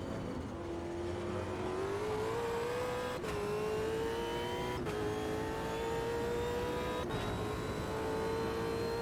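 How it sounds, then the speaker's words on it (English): Supercar V8 race car in the sim game Automobilista 2, a steady engine drone holding revs with slight pitch rises and three brief dips as gears shift, continuous and fairly near with no talk. "This is the Supercar V8 in Automobilista 2, and we are not doing a great job of driving it."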